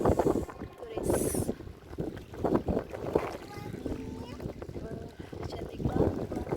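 A small boat motoring along near Marina Bridge on the sea, its engine and water noise blended with gusting wind on the microphone, while someone talks over it close by.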